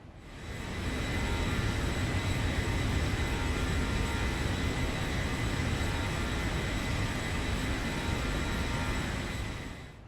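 Steady, loud airliner cruising at 25,000 feet in the X-Plane 11 flight simulator: a continuous broadband engine and airflow roar with faint high whine, unbroken for the whole stretch, no talking.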